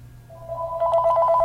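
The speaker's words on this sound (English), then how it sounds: "Hear the phone ringing?" A telephone rings for a Google Voice verification call, a steady electronic ring tone that begins softly and grows louder, alone with no talk over it.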